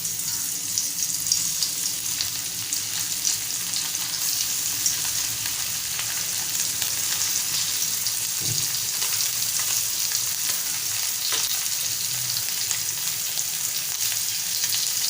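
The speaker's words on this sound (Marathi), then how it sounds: "आता आपण फ्राय करून घेऊया। आपलं तेलही छान गरम झालेलं आहे, त्यामध्ये आपण मांदेली सोडूया।" Mandeli fish frying in hot oil over a medium flame, a steady close sizzle that holds evenly throughout with faint bubbling and occasional soft knocks.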